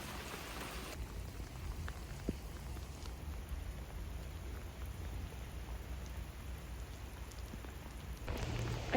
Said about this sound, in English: I can listen to the rain.